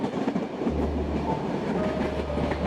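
A train runs on rails as a sound effect in a Bengali village ghost story. A steady, close rumble with a low engine drone goes on throughout, with no voices.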